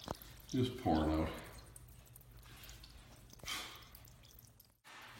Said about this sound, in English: Just pouring out.